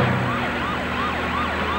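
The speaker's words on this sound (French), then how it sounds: "ici le commandant de brigade en voiture bleue avec les feux et la sirène" A police brigade car's siren wails in rising and falling sweeps, loud and close over the steady hum of traffic, with no voices.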